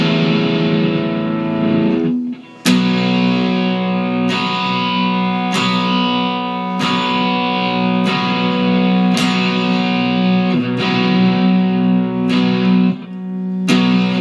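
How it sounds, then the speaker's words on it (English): A heavily distorted 2021 Kramer Baretta Special electric guitar plays sustained chords, loud and close, re-struck roughly every second or so with a brief dropout near the start. "let's check out that volume control with the distortion on."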